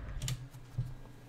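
Light clicks on an English-layout computer keyboard, two or three soft keystrokes close by and quiet, with no talk.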